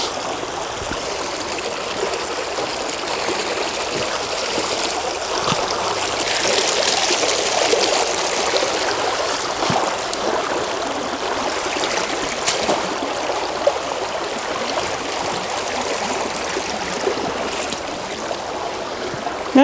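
Creek water flows steadily over a shallow riffle in a stream, a continuous broadband rushing and trickling with small gurgles, close and fairly loud, with no voices.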